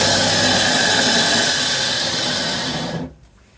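An agate is ground on a stone saw, giving a loud steady high whine with a gritty rasp that holds evenly and then cuts off sharply near the end, with no talk.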